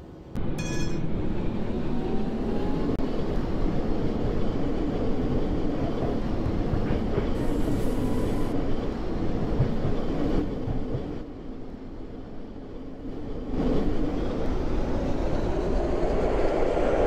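A tram in the Roblox video game rolls steadily along rails with a continuous low rumble and rattling wheel noise, briefly quieter midway before swelling again; no voices.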